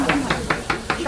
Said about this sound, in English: Chopping up the bits.